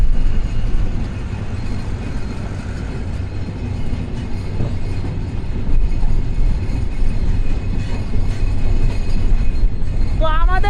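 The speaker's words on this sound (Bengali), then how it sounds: "ট্রেনটা হচ্ছে এক নম্বর প্ল্যাটফর্মে ঢুকবে" A train pulls into Ishwardi Junction platform in Bangladesh with a loud, continuous rumble of wheels and carriages. Wheel squeals rise near the end.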